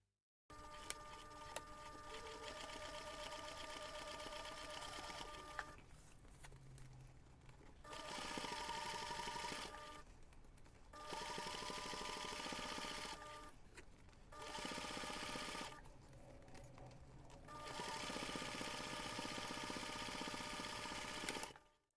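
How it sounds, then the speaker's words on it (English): A sewing machine top stitches along a finished seam of a laptop bag, running in steady whirring bursts of several seconds separated by short pauses, close and alone. "you will be able to top stitch along that finished seam"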